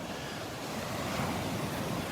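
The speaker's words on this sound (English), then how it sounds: "There's some areas where it's almost calm, and other areas where the waves get really big." Ocean surf on the beach at Delnor-Wiggins, a continuous loud wash of breaking waves mixed with wind buffeting the microphone, steady throughout with no voices.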